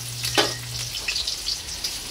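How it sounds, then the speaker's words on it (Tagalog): Fish and its sautéing ingredients sizzle in a pan, a steady close frying hiss with a brief low hum near the start and light scraping, no talk over it. "Ayun na po, nagigisa na po si tita."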